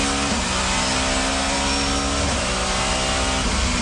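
A 1990s touring car accelerating hard, its engine note loud and close, climbing steadily through a sustained high-revving roar with brief dips at gear changes, over continuous broadband race-track noise.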